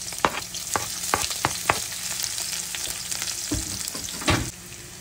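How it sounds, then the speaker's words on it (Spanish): Garlic and onion frying in oil in a pan, with a close, continuous sizzle and frequent sharp clacks of a utensil stirring against the pan. "Lo primero que vamos a hacer es agregar los ajos y vamos a agregar la cebolla también"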